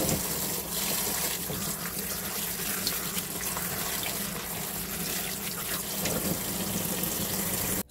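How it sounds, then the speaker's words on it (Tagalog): Lettuce for Korean sangchu kimchi is rinsed under running tap water, a steady close gush and splash of water filling and pouring in a kitchen sink throughout. "Ngayon, babanlawan naman natin siya. So, ayan, babanlawan na natin siya."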